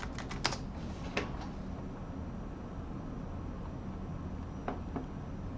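Computer keyboard typing in a few short bursts of keystrokes, faint against a steady low background hum, with quiet pauses between bursts.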